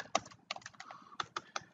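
Someone types C/C++ graphics code on an imperfect computer keyboard, producing about eight soft, uneven key clicks in quick succession, quiet and close, with no voices.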